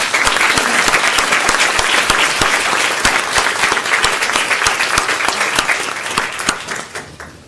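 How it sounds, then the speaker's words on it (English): An audience gives a round of applause at a school district board of trustees meeting, with dense, steady clapping from many people that holds for several seconds and then thins out and fades toward the end. "Will you all please join me in giving them a round of applause?"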